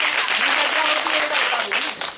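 Brief applause during a religious festival gathering, a crowd clapping continuously for a couple of seconds with faint voices mixed in.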